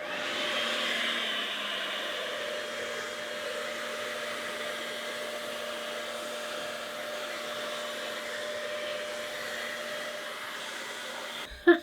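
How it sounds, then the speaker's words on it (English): A hairdryer blows on wet fluid art paint, a steady whining whir with a constant tonal hum that runs unbroken and fairly close, then cuts off with a click at the end. "I'm just going to use a hairdryer."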